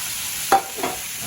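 Spinach tossed into a hot pan with salt and pepper for a frittata, a sharp stirring scrape followed by a softer second stir over a steady low sizzle, close and clear with no talking.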